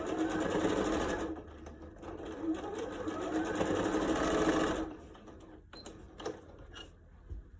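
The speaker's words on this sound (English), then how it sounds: "Sew it all along here." A sewing machine stitches bias tape along the edge of a fabric face mask, its motor whirring in a fast steady run for about five seconds before slowing into short bursts and stops.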